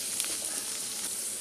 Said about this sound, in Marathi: तेल सोडूया आपण जरा, कांदे चांगले आपण फ्राय करून घेऊया,